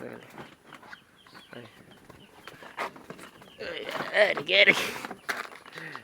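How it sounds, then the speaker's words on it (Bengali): Chickens cluck and squawk close by as they attack a heron, building into an agitated flurry of calls near the end, with people talking over the commotion. "বক পাখির উপরে হামলা করছে মুরগি"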